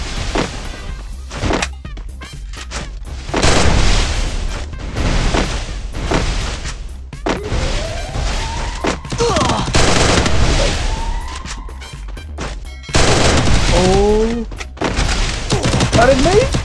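MP40 and UMP submachine guns firing in the mobile battle royale game Garena Free Fire: loud, close bursts of rapid automatic fire broken by short pauses, with chirping game effects in between.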